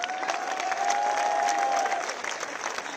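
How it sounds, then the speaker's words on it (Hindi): A crowd at an outdoor street protest applauds steadily, dense and fairly loud, for about two seconds before easing slightly, with a single sustained voice or whistle-like tone over the first part. "इसका हम जश्न मनाएं तालियों के साथ।"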